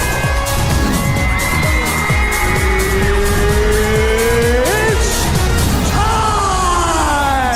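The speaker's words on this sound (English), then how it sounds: "Oh, you got ran over by a car." A car in the Fortnite video game drives and runs a player over, with a loud, continuous revving engine and repeated screeching tire squeals filling the whole stretch.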